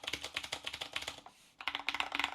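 Close, fast typing on a Qwerkywriter 10th Anniversary Edition keyboard, a dense run of crisp key clicks that stops for a brief pause and then resumes in another quick burst.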